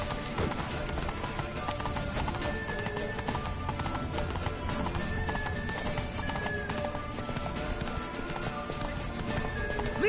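A horse gallops in The Witcher 3: Wild Hunt, its rapid hoofbeats driving continuously under a dense, loud bed of game music and ambience, with occasional whinnies.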